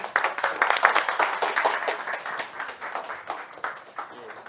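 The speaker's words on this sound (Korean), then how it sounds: "칭찬 박수 한번 부탁드리겠습니다" An audience at a university colloquium lecture claps to welcome a professor, a lively patter of individual hand claps, moderately loud and close, gradually thinning toward the end.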